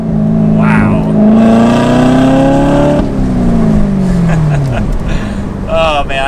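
A 2019 Chevrolet Corvette ZR1 roars loudly while being driven, its engine climbing in pitch through the revs, then dropping sharply as it lets off and shifts, with a voice speaking briefly near the end.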